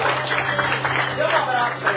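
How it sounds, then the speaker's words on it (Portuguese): Church congregation applauding during a communion service, a steady wash of clapping with voices and a sustained hum mixed in throughout. "Vamos aplaudir de Jesus."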